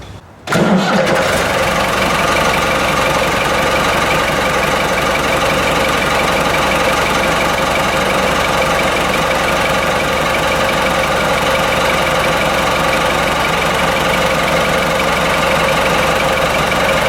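A Ford 5610 tractor diesel engine cranks briefly and catches, then settles into a loud, steady idle that runs on unbroken and close by.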